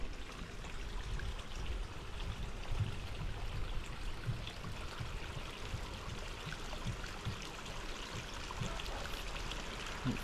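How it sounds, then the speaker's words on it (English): Garden pond fountain running during autumn maintenance, water splashing and trickling back into the pond in a steady, continuous babble at moderate distance, with no voices over it. "Fountain's flowing a lot better."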